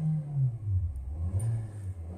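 A 2024 Nissan Versa SR engine revs up and down when the gas is pressed, a moderate mid-pitched rumble rising and falling over about two seconds, heard close with no talking.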